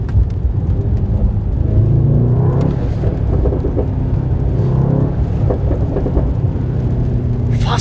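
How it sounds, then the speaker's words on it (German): A Mercedes-AMG GT63s downshifts from third to second gear, its exhaust rumbling heavily inside the car with a few sharp pops and bangs breaking through the low drone. "Ich zeig euch nur mal, wie er sich anhört, wenn wir schon mal vom dritten auf den zweiten Gang schalten."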